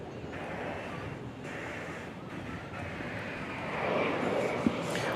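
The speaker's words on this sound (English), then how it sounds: "We've got American Airlines Airbus A319 off to Des Moines, Iowa." An American Airlines Airbus A319 jet rumbles and roars at an airport, a steady broadband engine wash swelling slightly toward the end, with wind noise and a voice talking over it.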